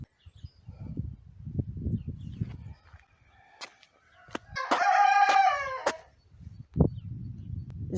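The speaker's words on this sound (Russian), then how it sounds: "Петухи поют и поют." A rooster crows once loudly and clearly in a garden setting, surrounded by soft clucking, low rustling and scattered taps before and after.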